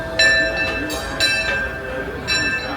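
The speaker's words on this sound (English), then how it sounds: "Another of my favorite things to do is to stand here and listen to that train come into the station." The Disneyland train pulls into the station with a ringing bell, its clear tones struck several times over a steady rumble of the train and ambient park noise.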